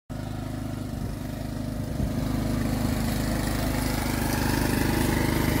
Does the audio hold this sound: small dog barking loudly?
no